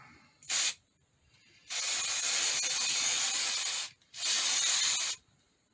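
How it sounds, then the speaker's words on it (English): Three bursts of spray adhesive hissing up close onto fabric: a brief puff, then a long sustained spray of over two seconds, then another shorter burst. "and I will spray this fabric"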